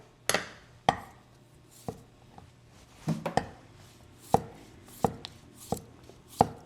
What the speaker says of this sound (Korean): 오이를 하나 썰겠습니다.